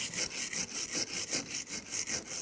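A wire brush scrubs rust and corrosion off a brake caliper bracket on a 2001-2006 BMW 325Xi, with quick rhythmic back-and-forth rasping strokes, close and fairly quiet.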